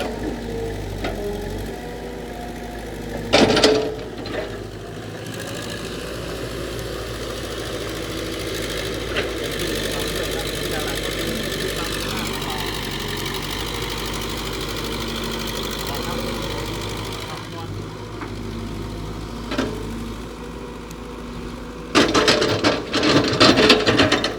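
A steady diesel engine under heavy load drones and rumbles throughout, with occasional clanks and bursts of louder mechanical noise, while someone talks over it.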